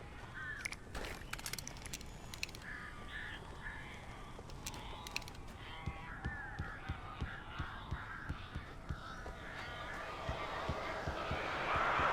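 Crows caw repeatedly in a dark, eerie setting in the Alan Wake video game, harsh calls scattered over a steady rustling ambience with faint low sounds beneath.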